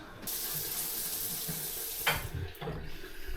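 Water runs steadily through a leaking upstairs bathroom fixture during a DIY repair, a continuous close rushing stream with a couple of brief splashy knocks near the end.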